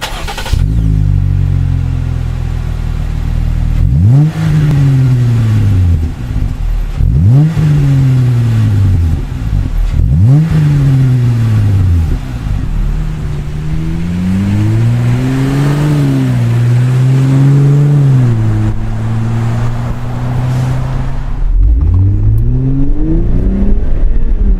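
A Jeep Wrangler JL with a V6 and aftermarket exhaust revs loudly and close by. Several sharp throttle blips rise and fall in turn, followed by a longer wavering rev and a final climb, all with a deep, steady engine rumble underneath.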